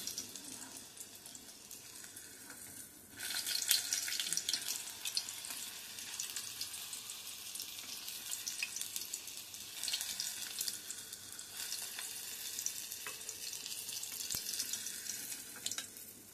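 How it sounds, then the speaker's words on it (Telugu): Chicken pakodi frying in hot oil on a low flame, a steady soft sizzle with fine crackle running throughout, close and even, with no talking. "లైట్గా సిమ్లో పెట్టుకొని వేయించుకోండి"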